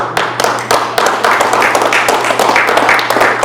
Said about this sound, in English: Can we all clap for that?